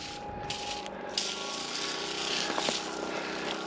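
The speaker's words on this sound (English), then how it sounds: "I don't mind the little pump sound, but that high-pitched whine is pretty annoying" A Petra Tools 3-gallon sprayer pump gives a steady thin high-pitched whine under a low mechanical rumble and rattle, with a few brief clicks partway through.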